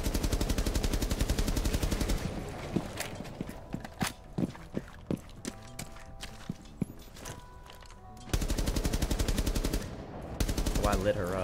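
Bursts of automatic gunfire in Rainbow Six Siege, sustained rapid fire at the start and end with scattered single shots and clicks between, loud and close in game audio.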